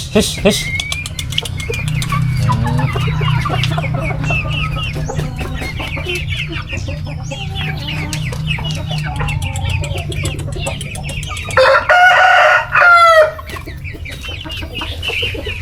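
Young three-month-old chickens cluck steadily up close, with a loud burst of crowing-like squawks near the end over low background rumble.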